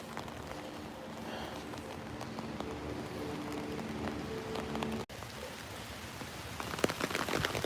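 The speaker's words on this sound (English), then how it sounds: "So right now the rain's still light, moderate, but it's about to get really, really heavy." Light to moderate rain from Hurricane Isaias falls steadily, a dense continuous hiss of drops on surfaces with occasional closer splatters, heard outdoors at moderate volume with a brief dropout partway through.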